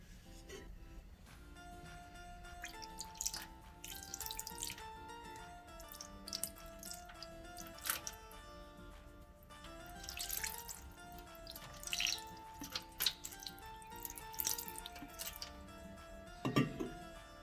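Water splashes and trickles in a basin as idols are washed with clean water mixed with Ganges water, with scattered drips, small knocks and handling sounds; no one speaks.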